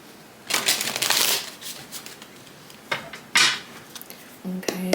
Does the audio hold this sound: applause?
no